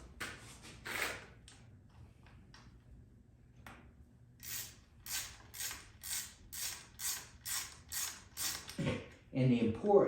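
A 5/16 socket wrench ratchets on the carburetor bolts of a lawn mower, giving a string of evenly spaced, close, crisp clicking strokes after a few scattered creaks and taps.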